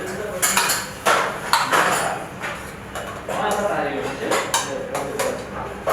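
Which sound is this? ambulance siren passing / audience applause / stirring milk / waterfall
stirring milk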